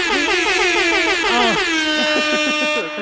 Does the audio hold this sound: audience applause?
no